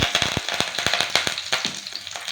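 Mustard seeds and curry leaves frying in hot coconut oil, a close, steady sizzle broken by sharp crackling pops as the seeds burst and the leaves spit in the pan.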